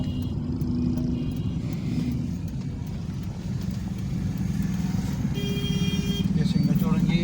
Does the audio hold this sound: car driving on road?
yes